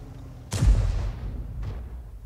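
Lorraine 155 mle.51 tank destroyer gun firing in a tank video game: one sudden, heavy boom that rumbles and decays over a second, followed by a fainter distant crack, with no talking over it.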